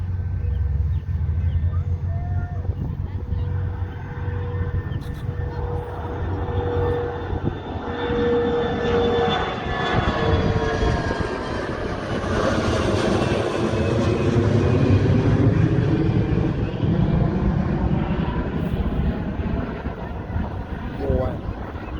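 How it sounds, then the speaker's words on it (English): A jet airliner climbs steeply on takeoff at Gravelly Point, Washington DC, its engine roar swelling to a loud, close peak with a sweeping pitch shift before slowly receding, while wind buffets the microphone. "Steep takeoff."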